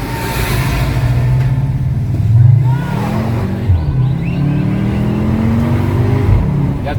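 A 2023 VW Tiguan R accelerates hard from the cabin, its engine note rising steadily and then dropping at a quick gear shift before climbing again. The rumble is loud and continuous.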